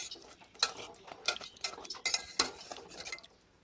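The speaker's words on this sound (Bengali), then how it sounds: "একটা খুন্তি দিয়ে নেড়ে চেড়ে দেবো" A spatula stirs fried sweets through hot sugar syrup in a pan, giving soft scraping clinks and sloshes in an irregular rhythm, close and fairly quiet.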